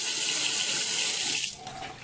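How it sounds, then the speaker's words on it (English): Water runs steadily from a European-style faucet during a main-floor home renovation, a loud constant hiss and splash that drops abruptly as the flow is cut near the end. "This is probably some weird European faucet"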